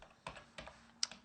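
Several quick, faint keystrokes on a computer keyboard, spaced out in a short burst of typing with no voices.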